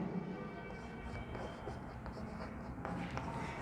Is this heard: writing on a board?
yes